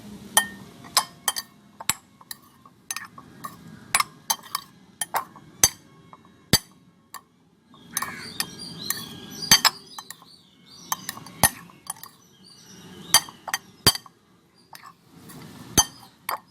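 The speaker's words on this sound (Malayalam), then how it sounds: "ഒരു സ്പൂൺ എടുത്തൊന്ന് ഇളക്കി കൊടുക്കാം" A spoon stirs a tutti frutti mixture in a glass bowl, striking the glass in repeated bright clinks at an irregular pace, with soft scraping and swishing between them.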